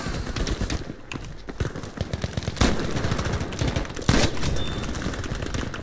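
Rapid hip-fire machine gun bursts in the Battlefield V video game, a loud, dense rattle of shots repeating almost continuously, with a couple of sharper louder blasts standing out.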